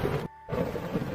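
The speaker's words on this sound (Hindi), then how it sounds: "बारिश तो शुरू भी हो गया" Cartoon rain pours steadily with rumbling thunder, broken by a brief silent gap before the downpour and rumble resume, loud and close with no voices.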